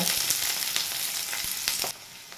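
Sliced onions fry in a pan over lowered heat for a prawn and bitter gourd dish, with a steady close sizzle and crackle and occasional stirring clicks. The sizzle drops to a softer hiss near the end.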